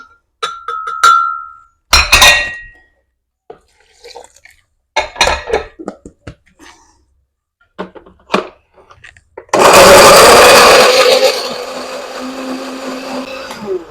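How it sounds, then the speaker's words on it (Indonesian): An electric blender grinds a washed spice paste for a village-style coconut-milk tuna dish, starting with a few clinks and short handling sounds, then running loudly and steadily for several seconds at the end. "Kemudian ini mau Bunda blender lagi."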